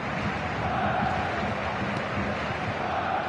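Steady roar of a football stadium crowd at a Bayern Munich match, a dense continuous wash of distant voices and murmur with no distinct chants or peaks.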